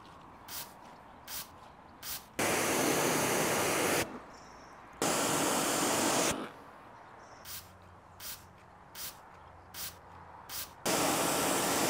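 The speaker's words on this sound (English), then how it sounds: "Make your car shine, water and dirt repellent for 2 to 3 months with Glove Ceramic Spray Coating." Glove ceramic spray coating hisses from a pressurized bottle onto a Mercedes C63S in three long, loud bursts, with short quiet ticks and pauses between them.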